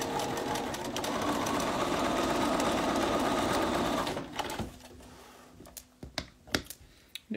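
A sewing machine stitches a patchwork quilt block, running steadily with a fast loud whirring rhythm for about four seconds, then stopping, followed by a few sharp clicks and light handling noises.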